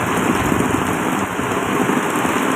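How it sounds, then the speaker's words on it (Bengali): Heavy storm rain pours down steadily over an open village market where traders stand soaked beside their goods, a dense, continuous wash of close rain noise with no pauses. "অসম্ভব ঝড়, অসম্ভব বৃষ্টি হচ্ছে।"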